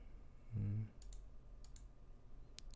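Mouse clicks while working in Photoshop, three crisp pairs of quick clicks spaced out over a quiet background, preceded by a short low hum.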